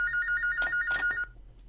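A telephone rings with a bright electronic trill lasting just over a second, close and clear, then cuts off into quiet room tone.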